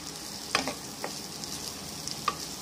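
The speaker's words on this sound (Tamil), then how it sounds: "போட்டு வச்சு கொஞ்சம் நேரம் சூடுபடுத்த கிண்டணும்." Sweet corn being stirred while it heats in a pan, with a few distinct scraping strokes of the spoon over a soft, steady low sizzle, close and fairly quiet.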